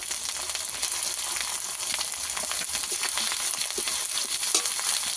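Ginger garlic paste and ground chili sizzling steadily in a hot pan of fried onion and tomato for a fish curry, a dense continuous frying hiss with small crackles and occasional stirring scrapes, close and alone.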